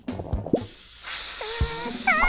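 A cartoon pump forces air into an inflatable arm band with a long, rising hiss, preceded by brief squeaky comic sound effects and a few warbling tones over the top.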